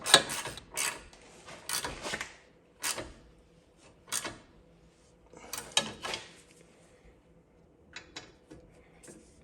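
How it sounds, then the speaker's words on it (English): Metal wrenches, 15mm and 18mm, clanking and ratcheting on a shock absorber nut during shock and strut replacement on a 2009-2015 Honda Pilot; a series of sharp, close metallic clicks and knocks in irregular bursts, no talking. "we're gonna put a wrench, an 18mm wrench on the back side, and then we're gonna put a 15mm wrench right on that nut"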